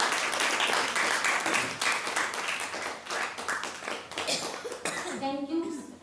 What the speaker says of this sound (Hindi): तो एक बार अपने स्वागत में आप सभी जोर से तालियां बजाएं।